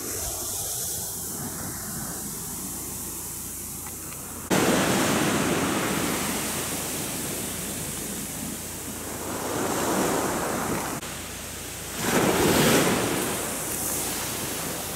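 Ocean waves break on the shore of Niijima island, a steady broadband surf roar with loud surges as nearby breakers crash and wash in, no talk.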